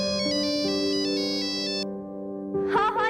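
A telephone ringtone plays a bright repeating electronic melody of sustained tones, loud and close, then stops before a short burst of sound at the end.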